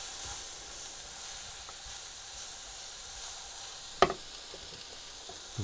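Sausage casserole with flour stirred in sizzles and hisses steadily in a hot pan, a continuous frying crackle with one sharp clink of a spoon near the end and no talking.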